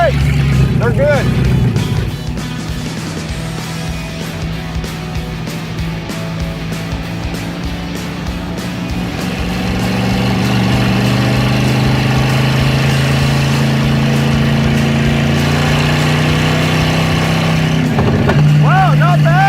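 A Suzuki Samurai fitted with a big block engine drives along with a loud, steady cabin drone, its engine note rising and holding, while people talk over the noise inside.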